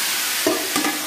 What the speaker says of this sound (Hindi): तड़का लग गया अच्छे से इसके अंदर, हमने बघार भी दे दिया इसमें